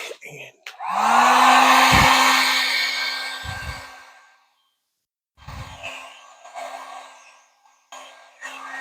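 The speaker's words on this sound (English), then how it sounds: "Get Mr. Heat Gun." A heat gun blows hot air over acrylic paint in a fluid-art pour, a loud close whooshing roar that starts, runs steadily for a few seconds and cuts off, then returns more faintly in shorter bursts.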